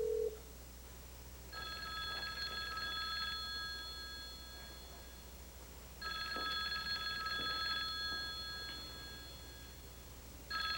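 A telephone rings in a soap opera scene, two long electronic ringing bursts separated by a pause, steady and moderately loud over a faint background hum.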